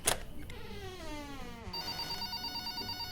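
A telephone bell rings in a steady, repeating trill, fairly faint, following a sweeping tone at the start.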